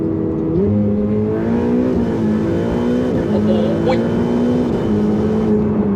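A Ferrari turbo V8 in manual mode pulls hard with a loud, continuous engine drone that steps in pitch through several quick gear shifts, heard from inside the car with someone talking over it.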